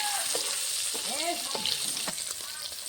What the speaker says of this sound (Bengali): আমি পনিরটা হালকা করে ভেজে নিয়েছি, এখন নামিয়ে নেব।